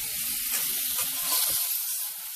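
Steak sizzles loudly in a hot pan, a steady close hiss and crackle with no talking.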